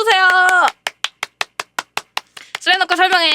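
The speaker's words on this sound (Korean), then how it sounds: "다들 박수 쳐주세요" A dozen or so sharp, evenly spaced claps ring out in a quick steady rhythm during a Slam Dunk explanation session, with a voice talking just before and after.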